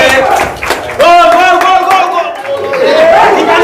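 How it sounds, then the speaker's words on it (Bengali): Audience clapping at a game show run by a gemstone shop, a crowd applauding under a woman's loud, excited voice that dominates throughout. "সবাই ওর জন্য হাততালি দিতে থাকো"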